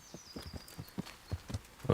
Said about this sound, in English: So let's summon my horse.